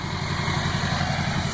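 A stock 2004.5 Duramax LLY diesel truck with a 3-inch downpipe, intake and 5-inch Magnaflow straight exhaust ending in a 6-inch stainless tip idles steadily, a loud, close, even rumble with no talk.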